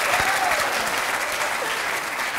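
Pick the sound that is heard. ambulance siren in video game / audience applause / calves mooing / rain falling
audience applause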